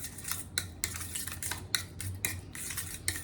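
Eggplant chutney with a little oil being mixed in a pot or bowl, giving a steady run of close scraping clinks from a utensil at a quick, uneven rhythm, with no talking.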